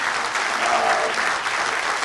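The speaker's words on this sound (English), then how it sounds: "Good applause." An indoor audience claps warmly after a session, steady dense applause filling the room from start to finish.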